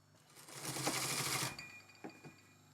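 Sewing machine stitching the canvas of a bespoke tailored jacket, one short close burst of rapid whirring lasting about a second, followed by two faint clicks as the fabric is positioned.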